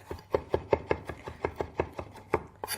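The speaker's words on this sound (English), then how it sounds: "So just finely chop" A knife finely chops fresh sage on a board in a quick, even rhythm of about a dozen crisp, close taps.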